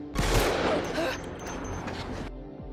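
A burst of gunfire erupts, several sharp shots blurring into a loud rolling blast, then cuts off abruptly.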